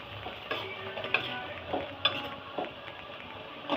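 Lentils sautéing in a pan while being stirred for coriander leaf chutney, with a soft steady sizzle and several light scraping strokes of a spoon at uneven intervals.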